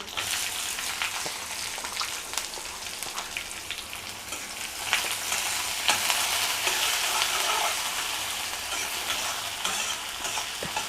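Curry leaves and chopped onions sizzle steadily in hot oil in a pan for a cluster beans curry, a continuous close frying hiss with occasional stirring scrapes and no talking.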